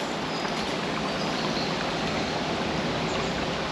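A small brook flows in the countryside on a sunny day, giving a steady, close, unbroken rushing and gurgling of water with no voices.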